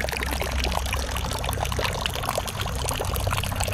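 Water pours continuously into the drinking system of a duck house built for cold places, a steady close-up splashing trickle with no break.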